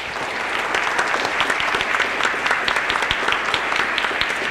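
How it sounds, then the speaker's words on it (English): A room full of people at a scientific panel claps steadily, a dense, even round of applause with no voices over it. "I want to give you a round of applause."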